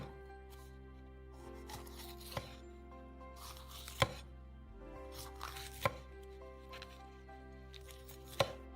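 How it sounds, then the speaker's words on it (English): A knife chops a Bulgarian bell pepper on a board, sparse crisp taps spaced a few seconds apart over a steady low hum, quiet and close. "Cut off the pulp from the Bulgarian pepper."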